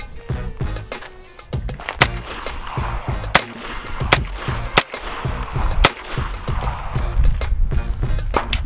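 A SIG MPX 9 rifle fitted with a Timney AR trigger is bump fired outdoors, producing a rapid, irregular string of sharp, loud gunshot cracks over a mechanical rattle.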